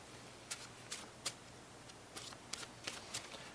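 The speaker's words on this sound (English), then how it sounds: "And shuffle these cards as well." Playing cards are shuffled during a card magic routine, with a series of quiet, crisp riffles and snaps spaced irregularly.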